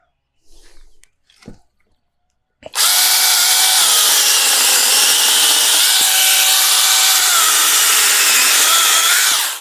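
A Ferrino KHB-12 cordless battery saw, 21 volt and 400 watt, starts up after a few quiet handling knocks and cuts wood with a loud, sustained, close buzzing whine that holds steady until it stops.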